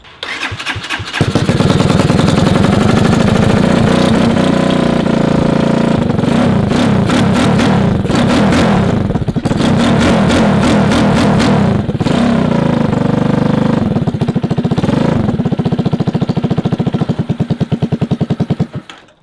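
A 200cc shifter kart engine starts and then revs hard, a loud, buzzing, high-pitched two-stroke drone rising and falling repeatedly through blips of throttle for several seconds before it is cut, very close and with no voices.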